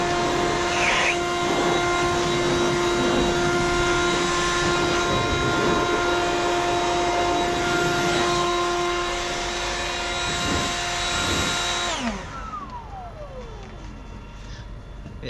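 A leaf blower runs loud and steady at close range while cleaning out a tractor or combine cab during harvest, its tonal whine holding for about twelve seconds before spinning down and fading.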